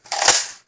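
Magazine pushed into a Rhinoceros BJ.02 toy blaster, one short plastic scraping crunch that swells and fades within about half a second, close and fairly loud, with no voices.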